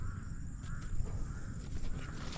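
Crows caw repeatedly over a cornfield where young maize is planted, harsh calls overlapping at moderate distance against a steady outdoor background.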